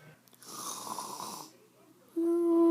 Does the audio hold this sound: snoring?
yes